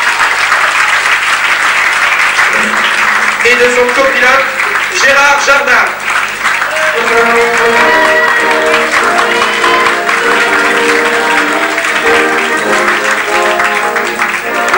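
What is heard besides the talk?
audience applauding rally drivers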